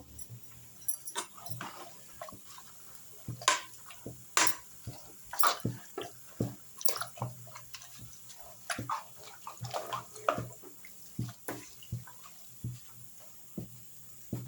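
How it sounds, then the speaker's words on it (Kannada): Water poured into a pot of potato and red amaranth greens sambar in a home kitchen, heard as a run of close, uneven splashes and trickles coming in short bursts with no one speaking. "ಇವಾಗ ನೀರು ಹಾಕೊಳ್ತಾ ಇದ್ದೀನಿ ಸ್ವಲ್ಪ"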